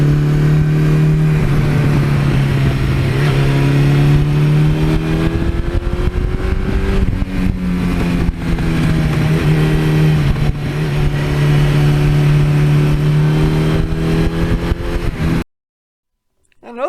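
A 1982 Suzuki GS1100E motorcycle engine hums steadily while riding, a loud, close drone whose pitch rises and falls gently with throttle changes, continuing for about fifteen seconds before cutting out abruptly.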